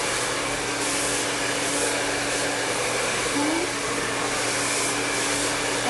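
A hair dryer roars steadily and close, blowing hair smooth over a round brush, with a constant airflow whoosh and no pauses.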